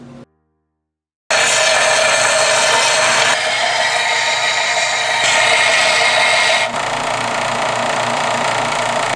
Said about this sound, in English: I'm gonna take this over to the belt sander, clean it up just a tiny bit